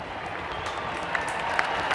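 A parade crowd cheers and applauds as the Queen arrives at a presentation of colours, a steady wash of clapping with a few brief whistles and shouts rising out of it, heard from a distance.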